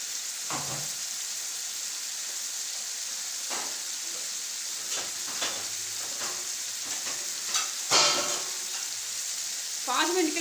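Spicy baby potatoes cook in a pan with a steady, close sizzle and hiss. Occasional stirring clatters and brief spikes break through, and a voice is faintly heard now and then.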